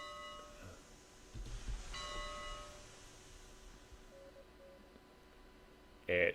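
A locomotive bell in the RailRoads Online train game rings faintly and steadily in the background. A louder tone bursts in at the very end.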